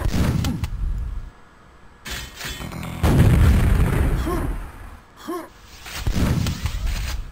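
Gunshots from the Quake deathmatch game on the DM4 map, several loud booming blasts with sharp onsets and decaying tails, spaced irregularly with quieter gaps, no talk over them.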